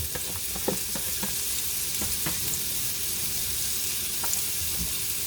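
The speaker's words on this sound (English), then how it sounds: "we are going to take this diced up onion, and we're just going to put it right in this pan" Diced onion sizzles in grease in a pan with a constant loud, close frying hiss, broken by occasional soft taps and stirring knocks, no speech.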